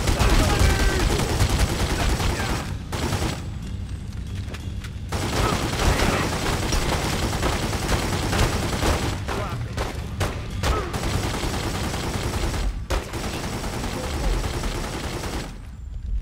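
Dense, loud bursts of automatic gunfire and rapid shots from the Godfather 2 video game run almost continuously, broken only by brief lulls, with a voice occasionally talking over the shooting.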